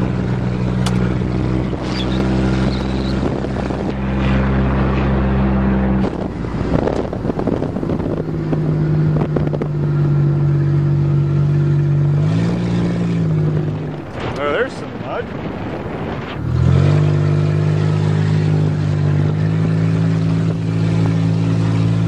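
A homemade farm van drives on its first test run, its engine droning steadily up close with shifting pitch, under heavy wind buffeting on the microphone while someone talks.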